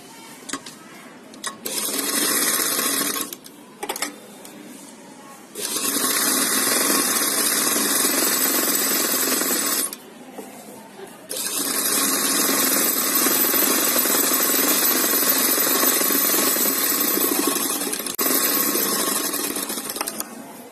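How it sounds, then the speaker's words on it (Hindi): A sewing machine stitches a trouser leg in quick loud bursts of rapid mechanical whirring, stopping and restarting several times with short pauses between runs. "एक पैर की सिलाई और लगाएंगे।"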